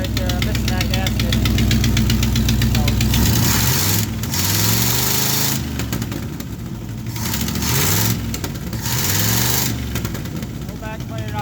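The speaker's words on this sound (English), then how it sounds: "I think the gasket's completely gone. See it? Backfiring right there." A 1985 Chevrolet K20 pickup engine with a missing gasket runs loud and close, a rough knocking idle broken by several sharp backfiring pops and surges.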